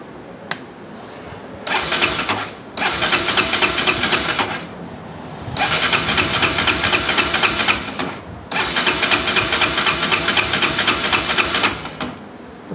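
A Bajaj RS200 motorcycle engine with a pickup problem, running during a fuel pressure test in rough, rattling bursts that cut out and restart several times, loud and close, with brief quiet gaps between runs.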